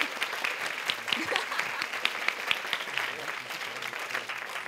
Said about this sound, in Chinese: 係咪要拍手㗎？